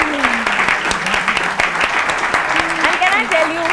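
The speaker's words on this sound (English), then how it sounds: "round of applause" An audience bursts into a round of applause at a film interview, loud continuous clapping with talk running over it.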